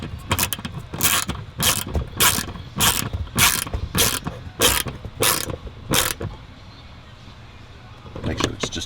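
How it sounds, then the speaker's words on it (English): Screws are reinserted by hand in a van, heard as a regular series of about nine ratcheting bursts from a hand tool, close and fairly loud, then a pause and another burst. "now here we go to insert the screws"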